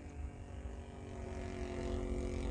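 A Great Planes JU-87 Stuka RC model plane flies with flaps down, its engine or motor a steady droning hum with a propeller buzz that slowly grows louder across the clip, with no voices.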